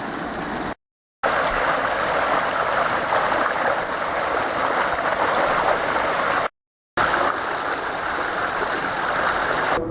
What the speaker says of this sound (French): l'eau qu'on voit ici, c'est la surverse du clarificateur et c'est l'eau qui va directement à la rivière